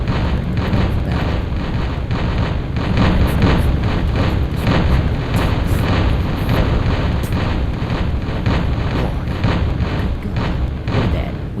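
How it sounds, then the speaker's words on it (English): Continuous rumbling booms and dense bursts of cannon fire and explosions from the Flexbox Defense video game, loud and steady throughout with no pauses, thick and busy rather than separated blasts. "Brace yourselves for cannon fire."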